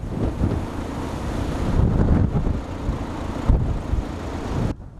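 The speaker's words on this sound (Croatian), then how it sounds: "na području Povila bura je puhala 160 km na sat, a 145 na Krčkom i Paškom mostu" Strong bura wind at gale to hurricane force on the Croatian coast near Rijeka, roaring steadily with loud gusting surges and buffeting rumble against the microphone, no speech.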